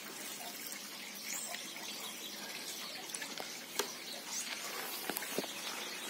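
Water trickles and splashes into a container while fertilizer is mixed for watering bonsai plants, a soft continuous pour with scattered small clicks and taps.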